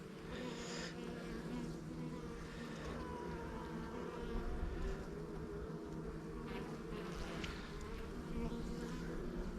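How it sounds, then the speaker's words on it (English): Honey bees in an open hive during an inspection on a hot day create a steady, close, dense buzzing hum that continues throughout without talk. "And the bees are cleaning up the cells"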